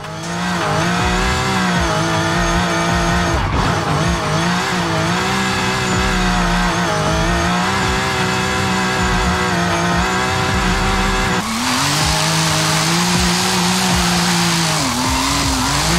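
A BMW M4 drift build in Forza Horizon 5 revs hard with a steady engine drone, rising and falling with gear changes. Light tyre squeal runs underneath, and a louder, harsher burst comes near the end.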